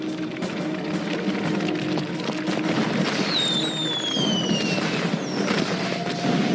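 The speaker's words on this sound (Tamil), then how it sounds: "பட்டாசு வெடிக்க போகுது." Cartoon firecrackers crackle and pop in a dense, continuous barrage, with whistling rockets streaking upward partway through, loud and busy throughout.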